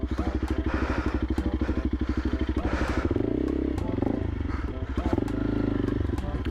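Honda CRF 300L 2024 dual-sport motorcycle engine revving hard, near and loud, with a rapid pulsing throb as the rear wheel spins for traction, rising then settling over several seconds, with faint clatter.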